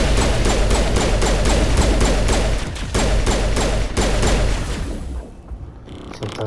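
Sustained automatic gunfire in Mass Effect hammers in a loud, rapid, evenly spaced stream with brief pauses, then tapers off into quieter mechanical clatter near the end.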